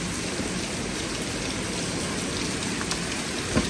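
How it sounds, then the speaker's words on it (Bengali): Heavy monsoon-like rain pours down in a dense, constant hiss of drops striking surfaces, steady and enveloping from start to finish with no speech over it. "আবার শুরু হয়েছে বৃষ্টি"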